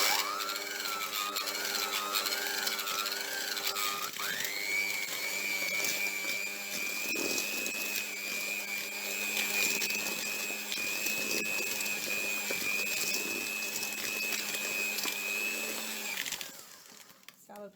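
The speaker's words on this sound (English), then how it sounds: "I'm going to move on to the hand mixer" An electric hand mixer beats fruitcake batter for Jamaican Christmas rum black fruitcake, a loud steady motor whine that shifts pitch as it works, then cuts off near the end.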